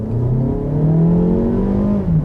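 A 2016 Mazda CX-3 GT engine revs up under acceleration toward 6,500 RPM, a loud, buzzy, rising drone heard from inside the car, climbing steadily and then easing briefly near the end.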